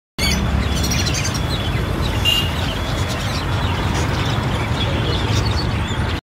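Birds chirp around nests at the Thrissur skywalk, bright calls layered over a steady loud wash of city traffic noise.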